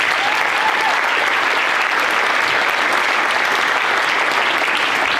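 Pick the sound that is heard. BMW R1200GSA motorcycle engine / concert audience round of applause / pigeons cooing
concert audience round of applause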